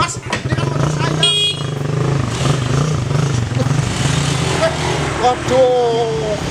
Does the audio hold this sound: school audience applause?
no